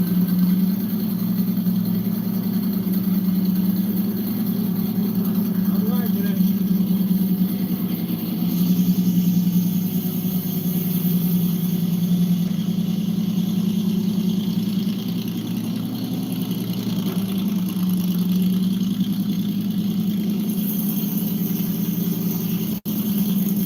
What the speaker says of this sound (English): hear in this clip exactly, Corey, how my engine sounds at like idle and park. This is what it sounds like